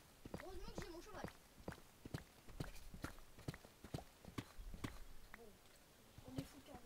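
Horse hooves clip-clopping in Minecraft, a steady run of sharp, fairly close hoof clicks under ongoing speech.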